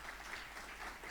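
Church congregation applauding during a worship service, a brief, faint wash of distant clapping with no distinct individual claps.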